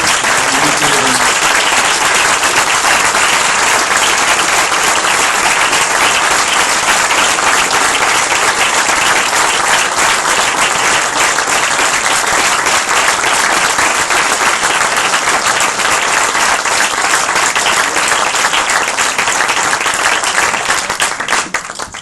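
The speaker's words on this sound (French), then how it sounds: "Je vous demande d'applaudir chaleureusement Wai Min Phyo et Mia Tuntwin" Sustained, dense applause from a large audience at a press freedom prize ceremony, loud and unbroken for over twenty seconds before tapering off at the very end.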